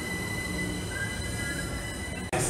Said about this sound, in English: And I'm headed home on this train.